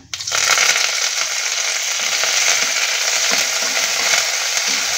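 Urad dal and curry leaves fry in hot oil for a chutney tempering, a loud, close, continuous sizzle and crackle that starts abruptly and holds steady with no talking.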